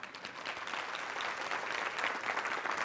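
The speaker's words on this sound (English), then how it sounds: "I'll take the applause." Steady, dense audience applause at a motivational talk, a continuous wash of many hands clapping at even loudness throughout with no voices over it.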